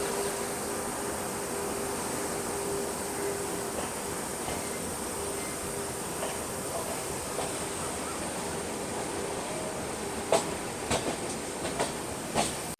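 Howrah-NJP Shatabdi Express pulling out, heard from inside its Vistadome coach: a steady rolling rumble and hiss of the moving train, with a few sharp wheel clicks near the end and no voices.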